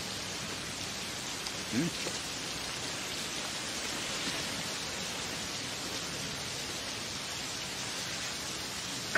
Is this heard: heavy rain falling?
yes